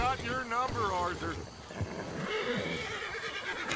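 A horse in Red Dead Redemption 2 gives a loud, quavering whinny near the start, with hoof clip-clops and some voices mixed in behind it.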